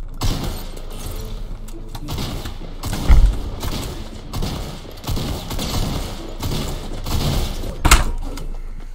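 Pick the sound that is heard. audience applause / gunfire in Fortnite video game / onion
gunfire in Fortnite video game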